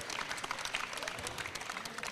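Applause for the participants at a cricket final, steady dense clapping from a crowd, sustained and fairly even throughout with no talk over it.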